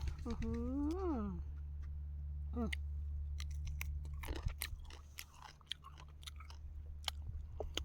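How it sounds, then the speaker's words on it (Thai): Pickled grapes are chewed outdoors in a garden, with moist crunches and clicks coming up close after a voice speaks briefly at the start over a steady low hum. "มากินเมี่ยงกัน มากินองุ่นดองกัน"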